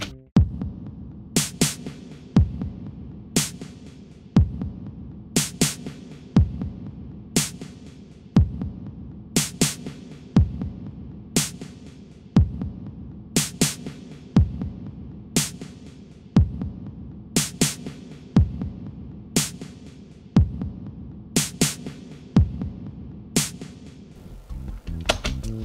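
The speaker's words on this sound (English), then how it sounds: "how you can generate your own sound loops in Magix" A homemade sound loop built and played back in Magix Music Maker: a steady low throbbing hum with sharp, bright percussive hits repeating in a regular pattern about every two seconds, loud and alone with no voices.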